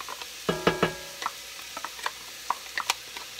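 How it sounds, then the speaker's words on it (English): Onion pieces hit a soup pot and start to fry, giving a few soft clattering drops and stirring knocks followed by scattered light crackles and pops, with no talking. "Let me put my onion in."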